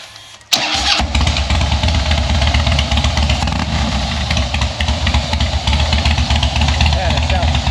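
A Harley motorcycle engine cranks and catches with a sudden loud burst, then settles into a deep, throbbing, uneven idle that continues close up for several seconds.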